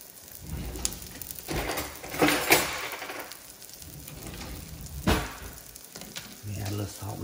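A bun and food cooking in a pan, sizzling and frying steadily with scraping and stirring noises that rise and fall, plus a faint low hum near the end.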